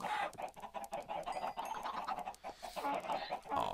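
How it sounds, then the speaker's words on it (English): Chicken clucking in the video game Minecraft, a run of short repeated clucks over steady game background sound, fairly close and moderately loud throughout. "Chicken! Chicken!"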